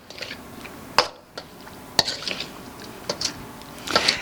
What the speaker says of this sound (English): I take the cubes, I put them into the marinade.